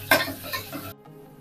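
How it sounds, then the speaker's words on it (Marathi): Onion being sautéed and stirred in a pan: a brief scrape of stirring over a steady sizzle, cut off abruptly after about a second. "कांदा इथे आपल्याला चांगला हलका सोनेरी रंग येईपर्यंत परतून घ्यायचा आहे।"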